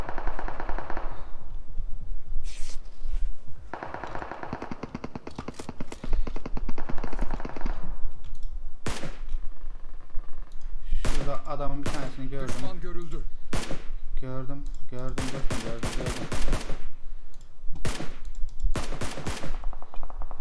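Rapid machine-gun bursts and single gunshots ring out in a PUBG Mobile match on the new Nusa map, loud and close, interleaved with players talking.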